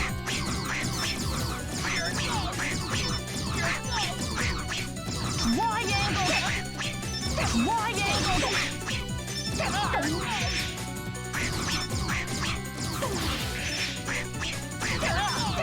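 Repeated duck quacks from Mega Man X7 gameplay recur through a loud, dense mix of game music and combat effects, sounding in short bursts every second or two.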